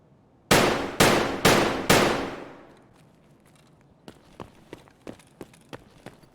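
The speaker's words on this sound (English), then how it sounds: "The shots went high." Rifle firing M855 rounds in Escape from Tarkov, four loud evenly spaced shots up close with a fading echo, followed by a faster run of quieter, sharp clicks or distant shots.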